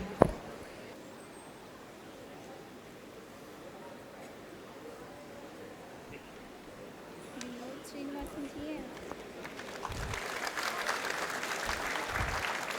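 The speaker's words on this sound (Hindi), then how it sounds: "तालियों की गड़गड़ाहट थमनी नहीं चाहिए" Audience applause at a college convocation ceremony in a hall, a faint low patter at first that swells louder toward the end, with some background voices.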